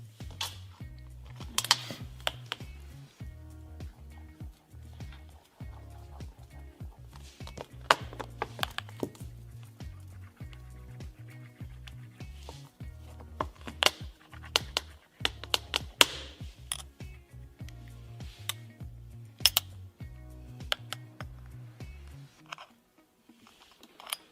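A key scrapes and taps against the screen of an iPhone 8 in a long run of quick clicking, scratching strokes, close and steady over a low hum.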